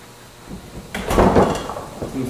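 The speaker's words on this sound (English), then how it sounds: "Open the door here." The door of a spray paint storage rack swings open on its hinges, a short rustling, creaking movement after a brief quiet start, moderately loud and close.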